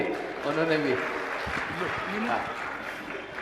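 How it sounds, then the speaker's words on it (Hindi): Audience applause at a Jain religious discourse session with a monk, a soft wash of clapping underneath someone speaking in Hindi. "आप लोग जोरदार ताली बजा दीजिए"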